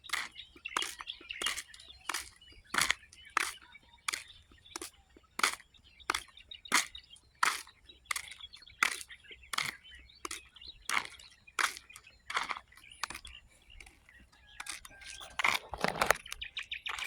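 Birds call in the Pampanga countryside with sharp, repeated chirps that come in a steady rhythm for the whole stretch, clear and fairly close over a soft outdoor background, with no voices.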